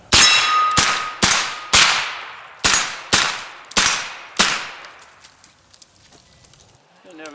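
A Colt pre-ban AR-15 9mm carbine fires at steel plates: seven sharp, loud shots, each with a ringing metallic clang, spaced roughly half a second to a second apart, then it goes quiet.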